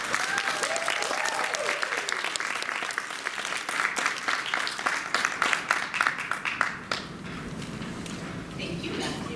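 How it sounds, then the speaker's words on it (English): An audience applauds after a speaker is introduced, loud dense clapping filling the room with a voice heard over it, then thinning to scattered claps before settling into quiet room tone. "please give a big round of applause for Tajuana Ross."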